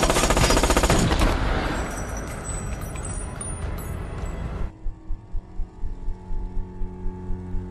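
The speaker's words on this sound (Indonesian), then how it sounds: "Edge menembaki kelompok Jackson, dan salah satu pelurunya mengenai leher Jackson." A film scene opens with loud rapid bursts of gunfire that fade into sustained rumbling, then switches abruptly to a steady series of rhythmic muffled thumps, with no talking.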